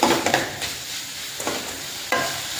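Beetroot fries in a pan with a steady sizzle, while a utensil scrapes and stirs it in several distinct strokes, close up, with no one talking.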